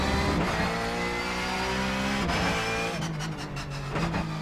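A Porsche 911 GT3 Cup race car in the racing simulator iRacing revs hard through its gears, with rising engine notes broken by quick upshifts and auto-blipped downshifts, loud and continuous in the foreground.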